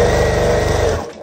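A sewing machine runs a quick burst of stitching along a fabric seam on a scrap-pieced flying geese quilt block, whirring steadily up close for about a second before stopping.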